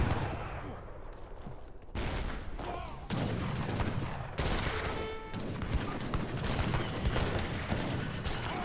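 Battle gunfire in Age of Empires III, with heavy cannon and skirmisher musket volleys: dense crackling bursts and booming impacts in repeated clusters, loud and continuous with abrupt shifts.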